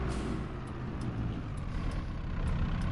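A farm tractor in Farming Simulator 22 rumbles with a steady, loud engine drone that holds constant throughout, alone and without talk.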